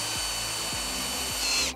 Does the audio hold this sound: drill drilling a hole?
yes